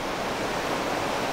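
Stream water rushing beneath a bridge in a forest in the Wolkensteiner Schweiz near Hopfgarten, a steady, dense, close wash of flowing water with no voices.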